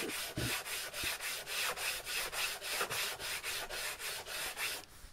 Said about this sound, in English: When this is all gone, then you can start sanding in earnest.